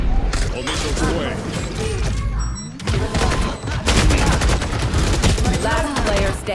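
Missiles launching in a competitive shooter game, a loud, dense barrage of rapid mechanical bursts and blasts that runs almost continuously, broken by a brief lull midway before the volley resumes at full intensity.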